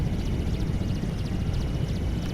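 A big Merlin helicopter in the FlightGear flight simulator gives a steady, loud engine and rotor drone with a dense low rumble, continuous throughout with no voices.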